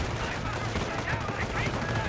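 MP40 submachine gun fire in Company of Heroes, a WWII strategy game, aimed at a rifle squad; dense, continuous crackling gunfire with layered battle noise, steady throughout under a voice talking.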